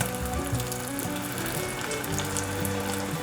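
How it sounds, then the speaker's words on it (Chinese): Vegan potato and seaweed rolls wrapped in tofu skin deep-fry in very hot oil, giving a dense, continuous sizzle and bubbling crackle, close and steady throughout with no talking. "继续炸第二锅，炸第二锅转小火，因为这时候油温很热"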